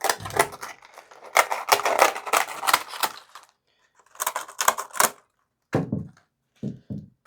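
Crisp snipping and crunching bursts from scissors cutting dry güllaç pastry sheets, in quick clusters, close by, with short pauses between groups of cuts.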